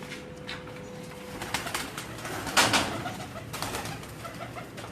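Pigeons with freshly stamped markings coo softly in low, rolling calls, several birds close by with a steady background hum and occasional rustling.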